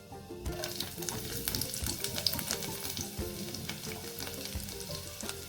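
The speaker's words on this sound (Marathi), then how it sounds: "आपलं तूप आता छानपैकी गरम झालंय. आपण त्यात 1 चमचा जिरे घालणार आहे." Cumin seeds sizzle and crackle in hot ghee, a steady dense frying hiss with scattered sharp pops, close and continuous with no voices.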